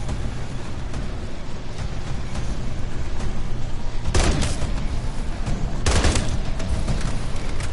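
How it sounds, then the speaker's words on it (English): Two loud, close bursts of assault rifle fire in Call of Duty Zombies, each a rapid clatter of shots about two seconds apart, over a steady rumbling bed of game noise. "every time I start a burst fire, it does 2 bullets"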